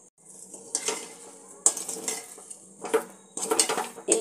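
Semolina stirred in a pan with a metal spoon, giving scraping, clinking strokes against the pan in an irregular rhythm, close and fairly quiet.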